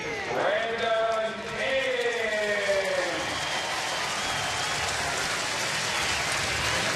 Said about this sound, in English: Hear the crowd applauding from Brandon Inge.